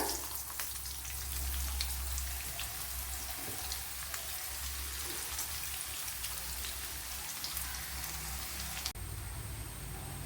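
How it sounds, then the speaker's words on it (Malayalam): Sliced onion fries in hot oil after mustard seeds have popped, for a Kerala-style pumpkin dish, giving a dense, even crackle and sizzle that fades slightly toward the end, with no talking. "നമ്മുടെ കടുക് പൊട്ടി ഉള്ളി ഇട്ട് കൊടുക്കുക"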